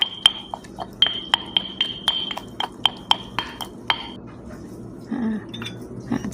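Chili paste for nam phrik pla thu is pounded with a mortar and pestle, giving a quick run of sharp, clinking knocks, close and evenly spaced, that slows and ends in softer mashing.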